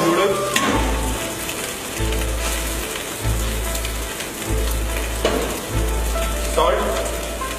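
Chicken and noodles stir-fry in a hot pan, a steady close sizzle broken by repeated low thumps and scraping as the noodles are tossed, with no talking.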